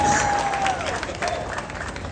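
An outdoor crowd at a Fourth of July harbor festival in Boston applauds, a broad, even patter of clapping heard at a moderate distance, with a thin tone briefly sounding over it.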